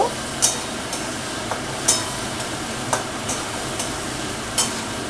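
Light frying of shrimp paste with a little salt and turmeric, heard as a low, steady sizzle under repeated sharp scrapes and taps of a spatula against the pan.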